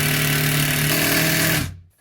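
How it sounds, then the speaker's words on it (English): An impact gun drives a bolt with a socket, giving a loud, close, buzzing hammer rattle that holds steady for about a second and a half, then cuts off abruptly into silence. "Take this, screw it in, socket wrench, and your impact gun."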